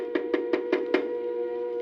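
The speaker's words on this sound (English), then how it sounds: "two suspicious-looking men knocked at the door" Five quick knocks at a door in an even rhythm, close and clear over a steady musical background, then a short pause.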